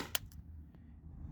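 A Tippmann TPX paintball marker fires one sharp, short pop near the start, followed by a faint tick in a quiet room.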